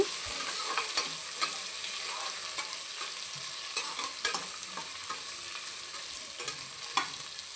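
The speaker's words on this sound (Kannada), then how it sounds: "ಇವಾಗ ಕಟ್ ಮಾಡ್ಕೊಂಡಿರೋಂಥ ಈರುಳ್ಳಿ ಸೇರಿಸ್ತಾ ಇದ್ದೀನಿ ಈಗ ಈರುಳ್ಳಿನ ಚೆನ್ನಾಗಿ ಬಾಡಿಸ್ಕೊಳ್ಳೋಣ" Chopped onions are stirred and sautéed in a pan for tomato bath. A loud, continuous sizzle is broken by frequent sharp scrapes of the spoon against the pan, with no talking.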